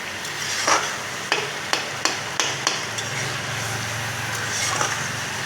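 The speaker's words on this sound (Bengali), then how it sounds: "মশলাটা আমি ভালো করে কষিয়ে নিচ্ছি, যাতে সর্ষে আর হলুদের গন্ধটা না থাকে।" A spoon stirs and scrapes a mustard and turmeric spice paste being sautéed in a pan for hilsa curry, several sharp taps and scrapes over a steady low sizzle.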